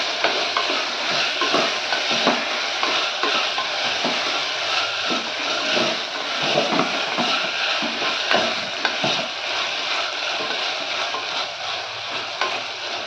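Vegetables for veg donne biryani being stirred and mixed in a pan, a steady sizzle under repeated scraping strokes of a spoon, close and continuous, with no voices.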